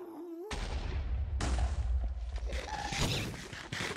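Gunfire in the Starblight Desert video game, a loud burst of shots and thuds starting abruptly and continuing in a dense, sustained barrage with layered impacts near the listener.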